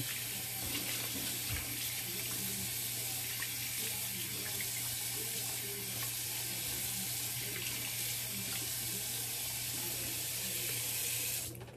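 A tap runs steadily, a continuous broadband rush of cold water splashing into a sink, close and even throughout, with no one speaking.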